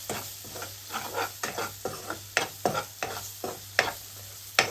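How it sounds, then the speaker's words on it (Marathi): Ground spices, coriander powder, garam masala and turmeric, are sautéed in oil for cashew curry, with a soft sizzle under a series of close scraping stirs against the pan and no speech. "गरम मसाला आणि हळद सर्व मसाले मिक्स करून घेऊ, व्यवस्थित परतून घेऊ।"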